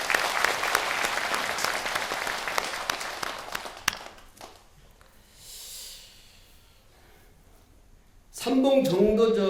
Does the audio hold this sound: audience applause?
yes